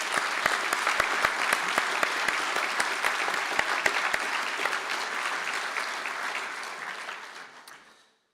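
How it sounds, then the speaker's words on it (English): Graduates at a Galway City conferring ceremony receive sustained applause from the hall, a dense, steady round of clapping with a few sharper claps standing out, fading away over the final second. "stand for a round of applause"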